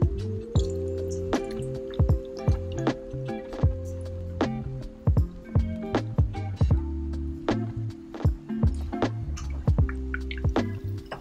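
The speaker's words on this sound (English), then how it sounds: "you're going to stir to make sure all the shrimp are coated" Shrimp stirred by hand in buttermilk, a pound of them with half a cup of the liquid, giving a run of wet squishing and dripping sounds in close, uneven bursts with no talking.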